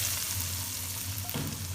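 Hot oil tempering with spices and red chili powder is poured over cooked chana dal, giving a steady, close sizzle and frying hiss that runs throughout with a brief stirring clatter near the end.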